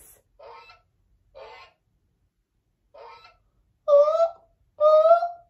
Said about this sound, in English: let's press the goose and see what sound it makes.